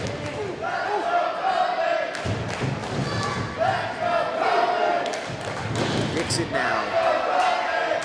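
A wrestling crowd cheers and roars for Colby Corino in a match against Ken Dixon, with heavy thuds from the ring, under steady ringside commentary.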